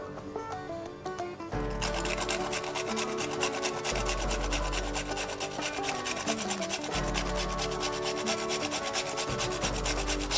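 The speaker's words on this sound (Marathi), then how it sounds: "आता हे जायफळ आपण किसून घेऊया।" Fresh whole nutmeg is grated for shrikhand in fast, even rasping strokes that continue without a break, with tonal background music beneath.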